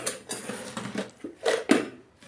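Crisp wheat-flour khari pastry crunches and crackles in a few sharp, close bursts, the loudest near the end, with no talk over it.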